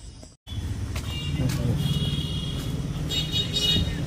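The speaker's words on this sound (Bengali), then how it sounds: "অটো এসে গেছে।" An auto rickshaw pulls up on a road with a steady engine rumble and passing traffic noise, close by, with people talking over it.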